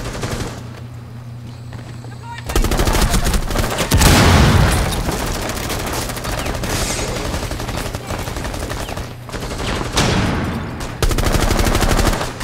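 Rapid gunfire and a flash-grenade burst from a Rainbow Six match, sustained loud bursts of shots with a heavy blast near the middle, under a continuous busy game mix.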